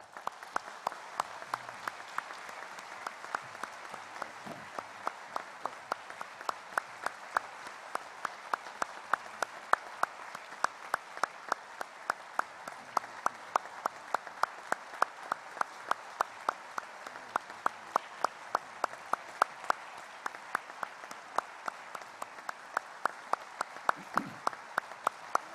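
A church congregation applauds during a flower bouquet presentation at an evening thanksgiving service, steady, sustained clapping from a full room, with some louder individual claps standing out and no speech over it.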